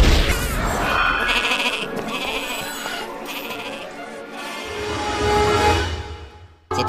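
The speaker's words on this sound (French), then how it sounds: "Il transforme en chèvre quiconque tente de l'utiliser" A goat bleats loudly and repeatedly in a fantasy game scene, a wavering animal cry with a brief thump near the end.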